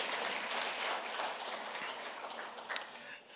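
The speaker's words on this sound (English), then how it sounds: "can I have a big round of applause to everybody who's getting felicitated" An audience at an industrial manufacturing excellence award ceremony applauds in a dense, sustained wash of clapping that stays fairly even before easing off at the very end.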